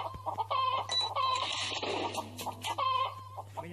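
Cartoonish chicken clucking from the Growtopia video game, a quick run of short bright clucks repeating in bursts over a low steady hum, alone and clearly audible.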